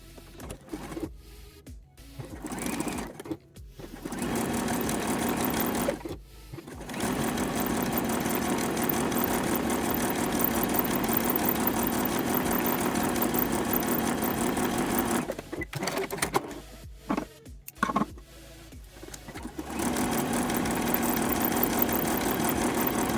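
A sewing machine stitching the leg line of a thong, running in long steady bursts with a close mechanical whir, broken by short stops and a longer pause.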